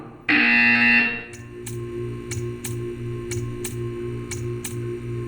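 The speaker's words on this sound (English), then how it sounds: "When you hear the buzzer, stare at the art." A buzzer in Portal 2 blares loudly for about a second, then gives way to a steady electronic hum with a regular ticking pulse repeating alone.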